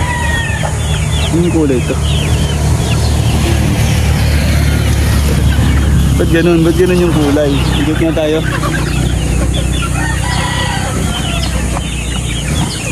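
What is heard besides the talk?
Lazy Gilmore breeder chickens crowing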